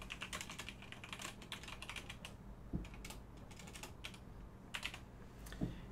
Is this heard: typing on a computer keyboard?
yes